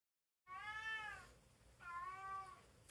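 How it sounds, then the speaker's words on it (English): A house cat gives two drawn-out meows, close and clear, with a short pause between them and nothing else audible. "I should probably go let the cat out now."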